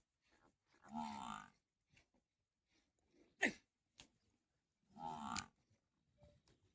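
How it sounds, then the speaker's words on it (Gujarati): Two long, deep lows from Banni water buffaloes at a dairy farm a few seconds apart, with a sharp snort between them in otherwise quiet surroundings. "ભેંસનું નામ લીધું એ જ ભેંસ મિત્રો વાળામાંથી બારે આવી રહી છે"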